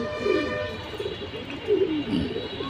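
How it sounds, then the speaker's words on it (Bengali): A pair of army pigeons, male and female, cooing in low repeated bursts at close range, with a steady background hum underneath. "আর্মি কবুতর নিয়ে আসলাম নর এবং মাদি উভয় কবুতরই"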